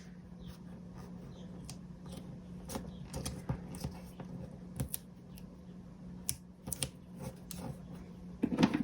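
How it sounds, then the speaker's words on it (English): Scissors snip at a sticker close by, giving a series of faint, irregular small cuts and clicks over a low steady hum, with no one talking. "I can maybe take my scissors and just go snip, snip"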